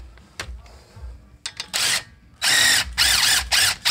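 An impact gun drives leveling-kit bolts on a 2017 Ram 1500, firing in several loud, short bursts of rattling hammering with brief pauses between, after quieter shop clatter at the start.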